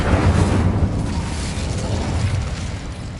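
A fiery burst from an Incendio spell cast in Hogwarts Legacy, a loud roaring whoosh of flame with a rumbling low body that holds steady for about three seconds before easing slightly.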